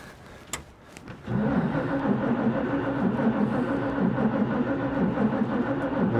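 A 1941 Chevy engine with a Carter W-1 carburetor cranks steadily without catching, a loud, even rhythmic churning that begins after about a second and continues to the end.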